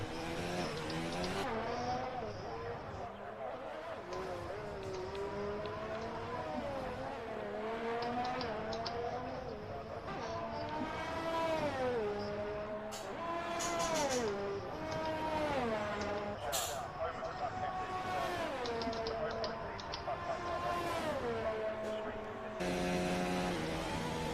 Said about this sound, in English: You can really hear the difference in RPM down the straightaway